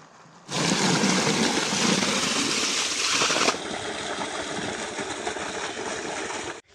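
An irrigation pump on a farm sends water gushing at full flow as a loud, steady rushing roar that starts abruptly and continues without a break.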